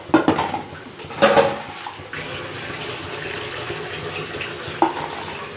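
Water poured into a village-style rohu fish curry splashes and gurgles in a few short bursts, then settles into a steady simmering hiss, close by with no talking.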